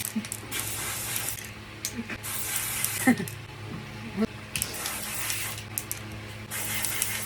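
A can of dry shampoo hair freshener sprays in several short hissing bursts, near and fairly loud, with people talking in the background between sprays.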